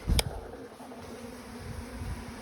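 Bees buzz faintly around an opened beehive, a low, steady hum with a sharp knock near the start, heard close and alone without talk.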